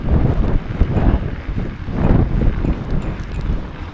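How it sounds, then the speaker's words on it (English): Strong wind buffets the microphone during snow biking in a polar vortex cold snap, a loud continuous low roar with gusty swells and no talk. "You can see that wind blaring there."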